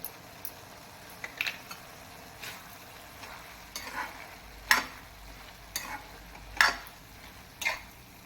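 A spoon scrapes and stirs a potato and vegetable bhaji in a pan over a low flame, with sparse scraping and clinking strokes spaced a second or two apart over a faint background.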